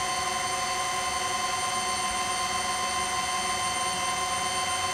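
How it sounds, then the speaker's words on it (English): A DJI Avata FPV drone whines steadily with dense high-pitched propeller and motor tones as it takes off, loud and continuous with no talk. "All right, now we're going to take off."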